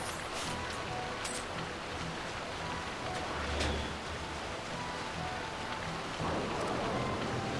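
Steady rain with a low rumble of thunder from Final Fantasy XII: The Zodiac Age, a dense continuous hiss throughout and a brief deep roll near the middle, no voices.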